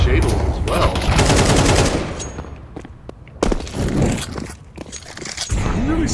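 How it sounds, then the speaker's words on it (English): Gunfire in a Counter-Strike match on the Mirage map: bursts of rapid shots crackle through the first two seconds, with further scattered shots and game sounds afterward, loud and close. "James peeks out, finds a couple shots onto Lou"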